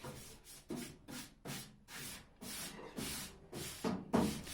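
An abrasive disc strips paint from the rear quarter panel of a Triumph TR7 during restoration, making about nine steady rasping passes in an even back-and-forth rhythm, close and alone.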